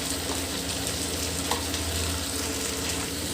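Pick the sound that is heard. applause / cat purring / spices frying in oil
spices frying in oil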